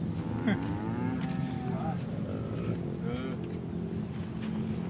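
Cattle moo a few times amid a noisy outdoor scene by rice paddies, with an engine droning and people talking nearby.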